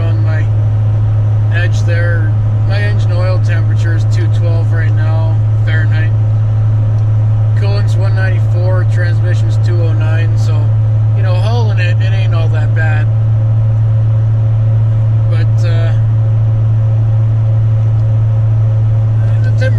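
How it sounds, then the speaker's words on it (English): A 6.7 diesel pickup towing a fifth-wheel trailer uphill through mountains gives a steady, loud low exhaust drone that runs unbroken beneath someone talking throughout. "that's the only complaint about this exhaust that I've got. It sounds great."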